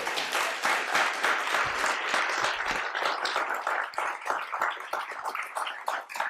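An audience at a conference gives warm, sustained applause, many hands clapping briskly and evenly, moderately loud and steady throughout.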